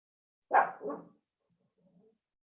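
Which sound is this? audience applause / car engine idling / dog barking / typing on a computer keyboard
dog barking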